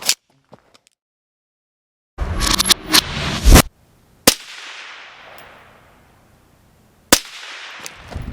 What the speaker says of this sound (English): That was 3 shots.